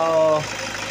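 A car engine idles steadily after repair work, a loud close mid-pitched hum with a brief steady tone at the start that then settles into a rougher, even drone.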